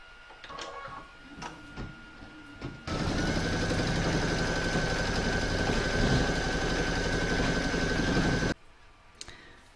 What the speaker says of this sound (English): I'm going to stitch round number 10, which is the satin stitch on the V